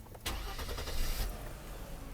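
Mercedes-Benz W126 300SEL with a freshly repaired fuel distributor restarting while warm, a short cranking burst that catches quickly and settles into a steady close idle.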